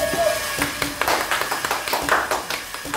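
A small group of people claps in a short burst of uneven, close hand claps, with a brief voice sound partway through.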